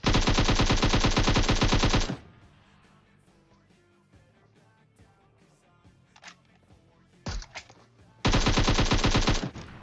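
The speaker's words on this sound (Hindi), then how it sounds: "तो मैं नेड करता हूं और फिर गोलियां चलाता हूं" Rapid bursts of automatic gunfire in PUBG Mobile ring out loudly at the start and end, with a quieter stretch of scattered clicks and a couple of single shots between.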